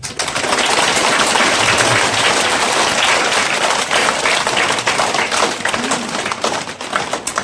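Loud, continuous applause from a crowd in a school gathering welcoming standard 8 students, dense clapping sustained throughout without talk.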